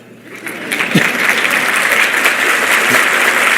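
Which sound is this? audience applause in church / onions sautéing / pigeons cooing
audience applause in church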